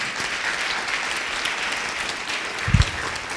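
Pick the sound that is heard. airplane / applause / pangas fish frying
applause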